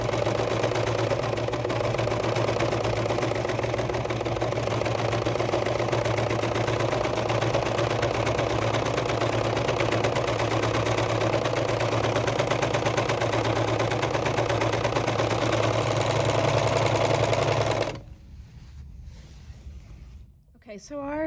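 Serger sewing machine stitching a concave curve in fabric, a steady loud motor whir running continuously for about eighteen seconds before stopping, followed by a brief quiet moment and the start of a voice.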